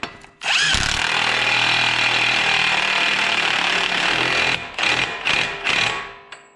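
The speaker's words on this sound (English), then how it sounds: "go ahead and tighten your axle nut down" A power tool, likely an impact gun, runs in one long loud continuous burst while tightening an axle nut on a 2008-2014 Dodge Avenger or Chrysler Sebring during ball joint replacement, followed by several short sharp bursts close to the microphone.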